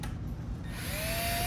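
A power drill fitted with a center-finding bit bores into wood for a dining table build, a close, loud whirring grind that rises in pitch as the bit spins up.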